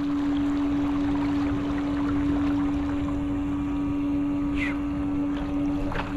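Electric trolling motor on a fishing kayak running at full speed on open water through a sharp turn, a steady close hum with a strong tonal whine over wind and water noise.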